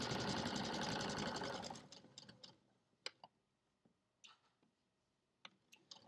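A sewing machine runs a straight stitch on pajama pants, a fast even needle chatter for under two seconds, then stops, leaving sparse clicks and handling taps.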